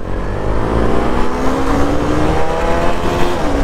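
A KTM Duke 200 and a Pulsar NS 200 motorcycle drag race, their engines roaring loud and close in a sustained rising rev, steady and unbroken with no talk.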